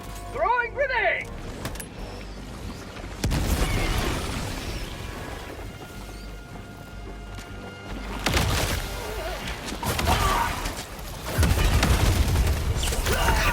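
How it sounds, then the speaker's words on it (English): Explosions and gunfire in Helldivers 2, heavy booming blasts and rattling fire breaking out in several loud bursts amid battle noise, with voices speaking throughout. "Throwing grenade"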